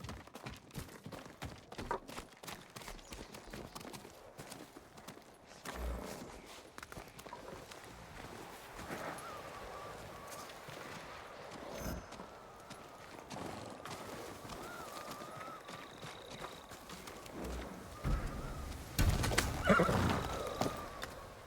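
A horse in the Ghost of Tsushima video game whinnies and snorts while its hooves clop and shuffle on the ground, with soft birdsong in the background and a louder whinny near the end.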